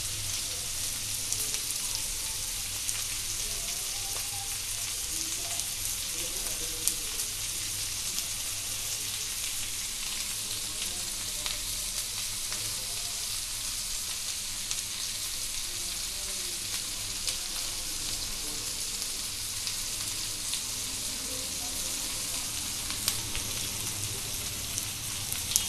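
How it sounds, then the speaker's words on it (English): Chicken tikka kababs on skewers sizzle steadily in a hot pan, a continuous fine crackling hiss heard close and unbroken, with faint scattered pops and no voices. "Occasionally we have to flip them to bake and roast from all the sides and until they get roasted into golden brown color."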